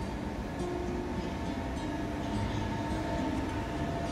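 A train passes in Berlin at night, a steady low rumble of rail cars rolling on the track, continuous and moderately loud with no voices.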